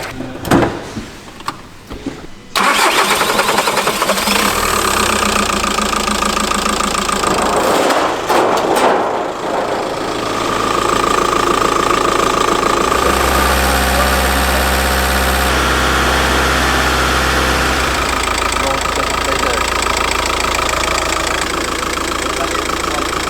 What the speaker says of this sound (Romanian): Deci o să lăsăm motorul să meargă cu ăsta doar pentru 5 minute după ce încălzim motorul.